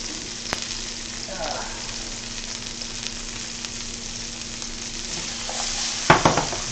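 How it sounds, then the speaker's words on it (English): Asparagus and zucchini sauté in a pan for pork chops with lemon herb pesto, a steady close sizzle with a faint hum beneath, a few soft stirring scrapes and a brief clatter of utensils near the end. "We're going to give that a little saute."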